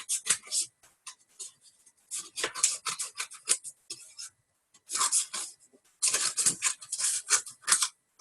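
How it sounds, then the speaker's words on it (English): Scissors cut through paper in quick bursts of crisp snipping and rustling, close by, with short pauses between each run of cuts. "You can also use scissors."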